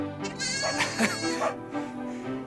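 Cartoon sheep and lambs bleating in a run of quavering calls, close and clear, with several overlapping bleats over about two seconds.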